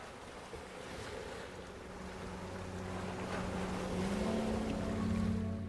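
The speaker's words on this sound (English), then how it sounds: "the wind intensifies over icy coasts and the open expanses of the Northern Sea" Wind and waves on an icy Alaskan coast by the open Northern Sea, a steady rushing roar of wind and surf that slowly builds in loudness, with a low droning tone underneath and no voices.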